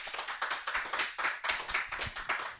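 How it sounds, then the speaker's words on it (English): A comedy audience breaks into close, lively clapping for a comedian, dense rhythmic hand claps pulsing throughout with no talk over them. "Round of applause for him"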